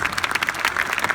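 Audience applause at a social innovation award ceremony, a short, lively burst of many hands clapping in quick, uneven pulses with no voices.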